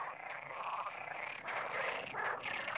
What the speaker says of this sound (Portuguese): As rãs coaxam soprando o ar dos pulmões pelas cordas vocais e amplificando a sua vibração com o saco vocal.